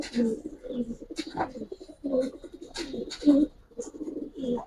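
Giribaz and coloured pigeons in a loft give repeated soft, low cooing calls in pulsing bursts, close by, with a few brief higher chirps mixed in.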